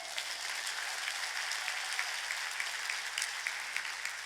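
A church congregation bursts into sustained applause at a Sunday worship service, a steady wash of many hands clapping that fills the space evenly from start to finish.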